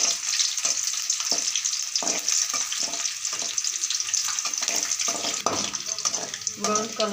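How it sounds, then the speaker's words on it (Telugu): Garlic cloves frying in a pan until lightly golden: a steady broad sizzle throughout, broken by frequent scraping stirs and clatter, with faint voices underneath. "అలాగే అది కొంచెం దోరగా వేగాక"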